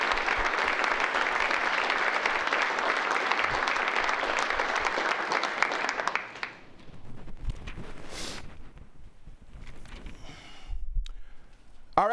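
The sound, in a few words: audience applause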